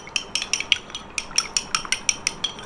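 A spoon clinks steadily against a bowl in a brisk repeating rhythm while coconut oil hair treatment is stirred, close and clear with no talking.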